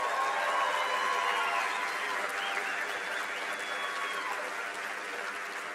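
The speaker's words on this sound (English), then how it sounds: "How about giving our 3 honorary doctorates a big round of applause?" Sustained applause from a large crowd at a university commencement, steady and dense clapping that continues throughout with a slight fade toward the end.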